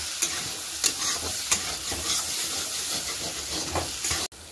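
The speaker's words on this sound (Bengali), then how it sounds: "ঢেঁড়সটা দেখে কতটা একটু ভাজা হলো" Okra frying in hot oil in a pan while being stirred, a steady close sizzle broken by repeated scraping stir strokes, then a sudden cut near the end.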